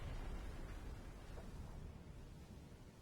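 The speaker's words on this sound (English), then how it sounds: "Torpedo impact." A torpedo strikes a ship in Silent Hunter 5, heard as a faint, distant, muffled rumble of explosion that rolls on for a few seconds and slowly fades.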